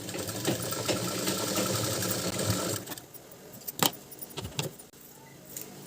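A sewing machine stitches folded tassels onto a kurta with a steady, close whirring run that stops after a few seconds, followed by a few light clicks and handling sounds.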